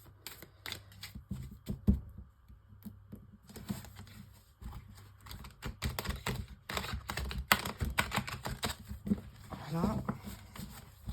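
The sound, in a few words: shuffling tarot cards for a five-card spread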